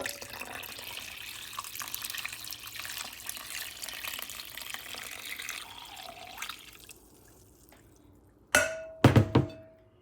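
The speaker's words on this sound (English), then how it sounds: "So I'll add a little bit more water to that." Water runs steadily into a container holding a jar submerged about halfway, a continuous splashing flow that stops after several seconds, followed by a few sharp thunks and clinks near the end.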